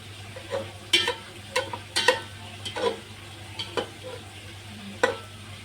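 Chicken pieces sizzling in oil in a pot for a Dhaba-style chicken kabsa biryani, with a spoon stirring and scraping in irregular close clinks over a steady low frying hiss.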